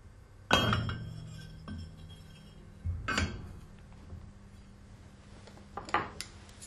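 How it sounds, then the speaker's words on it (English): Metal parts of an Alfa Laval valve body are fitted together, giving three sharp metallic clinks with short ringing tails spaced a few seconds apart over quiet background. "Fit the valve body."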